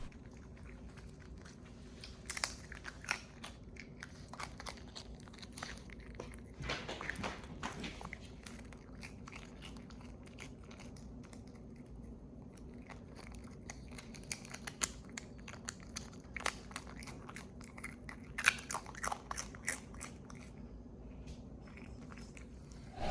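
A raccoon eats popular brands of crunchy snack chips, making scattered close crisp crunches and bites, some in quick clusters, over a quiet background with faint rustling.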